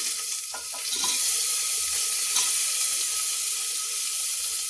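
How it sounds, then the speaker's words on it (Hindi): Onion and potatoes frying in a pan for aloo matar sabzi, a continuous close sizzle with light stirring clinks early on, no voices. "अब ये देखिए मैं प्याज भून रही हूँ। प्याज के साथ ही हम डाल देंगे इसमें आलू।"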